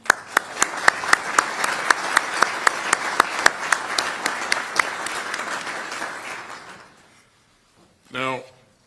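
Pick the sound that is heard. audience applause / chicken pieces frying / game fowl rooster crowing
audience applause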